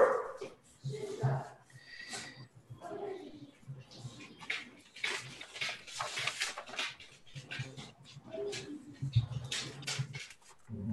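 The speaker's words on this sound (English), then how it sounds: "The dog is getting crazy." An indoor dog barks in short bursts and whimpers between them, with voices talking throughout.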